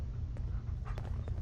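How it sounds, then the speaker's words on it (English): Dogmeat, the dog companion in the video game Fallout 4, gives a short whimpering, panting vocalization, close and fairly loud, over steady low game ambience. "Look, you got overtaken by a dog."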